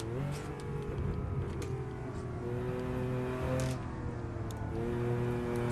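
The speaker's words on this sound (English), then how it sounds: "You see there, I gave it a bit of throttle, lifted off." A Porsche 911 engine hums steadily while the throttle is briefly applied and then lifted off, with a mid-level engine drone and gentle pitch shifts, heard from inside the car without talk.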